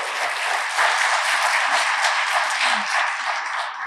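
An audience applauds at a White House event, a loud, dense, steady wash of clapping from a crowd that holds evenly for the whole stretch.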